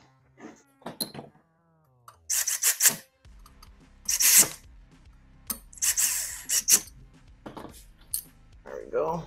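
An Allen-wrench-like bit tightens the barrel of an FX9 AR pistol, giving bursts of metallic rasping and scraping with clicks and clanks between them, close up and uneven.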